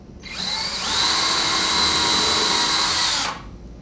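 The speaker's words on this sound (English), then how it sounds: "a drill bit long enough to go through the frame, through the drywall, and into the stud" A power drill with a long bit drilling through a shutter track frame and drywall into a stud whines steadily for about three seconds, spinning up then holding a high, even pitch before stopping, close and loud with no talking.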